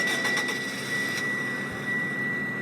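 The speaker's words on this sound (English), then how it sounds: "So here's the startup sound." A GSX-trim car engine runs steady and loud with a constant whine and broadband rumble, heard up close without any voices.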